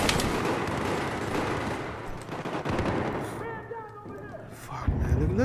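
Dense gunfire rattles through a Battlefield 4 Rush match on Operation Locker: sustained rapid automatic shots, loud and close, then easing with scattered bursts while voices talk over it.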